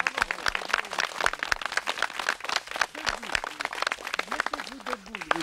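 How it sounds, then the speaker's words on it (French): At a gathering in a cave marking thirty years, a small group claps unevenly. Scattered hand claps run under overlapping talk and voices for the whole stretch. "je vais vous demander, comme on l'a fait hier, d'applaudir Monsieur Miloche"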